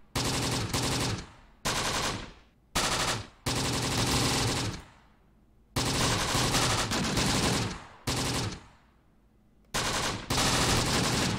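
A .30 cal machine gun fires in Close Combat: The Bloody First, set in Tunisia, in loud, close sustained bursts broken by short pauses, with about seven bursts in all.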